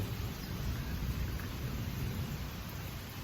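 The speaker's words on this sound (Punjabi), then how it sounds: "ਆਪਣੇ ਮੀਂਹ ਪੈਣਾ ਸ਼ੁਰੂ ਹੋ ਚੁੱਕਿਆ ਤੇ ਬਹੁਤ ਹੀ ਵਧੀਆ ਮੀਂਹ ਪੈ ਰਿਹਾ ਹੈਗਾ" Steady rain pours down outdoors during a light monsoon shower, a dense, continuous hiss of drops with a soft low rumble underneath, no voices.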